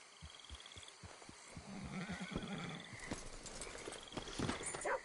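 Horse hooves clip-clopping in Red Dead Redemption 2, a rhythmic series of hoof beats close by with ambient game sounds around them.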